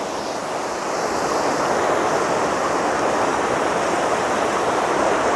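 River water rushing under a small bridge on a hike, a constant loud broadband roar that swells slightly after the first second and stays even, with no talk.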